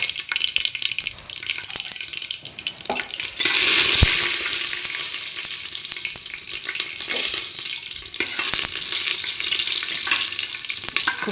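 Peanuts frying in oil with mustard seeds and cumin in a pan over a wood-fired chulha, a loud, continuous crackling sizzle that surges sharply near the start, with occasional stirring.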